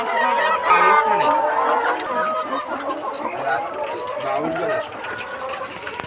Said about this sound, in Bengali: অনেক মুরগি কত মুরগি আছে ধরো অনেক মুরগি